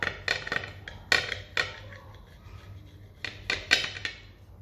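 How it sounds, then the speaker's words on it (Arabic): A serrated knife saws through soft, airy sponge cake in short, uneven strokes, with scraping and light taps against a board, quiet and close. "تقسموه تقسموه بالموز نتاع المنشار"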